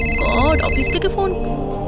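A mobile phone rings in a dubbed crime drama scene: a bright, melodic ringtone with sliding electronic tones plays loudly and close, with a voice and background sound overlapping it.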